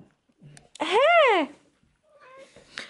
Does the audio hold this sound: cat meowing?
yes